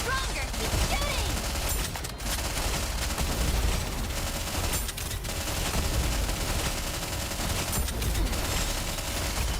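Continuous heavy gunfire in the mobile shooter Goddess of Victory: Nikke, rapid overlapping automatic bursts that stay loud and dense throughout, with a few brief dips, layered with game effects and background music.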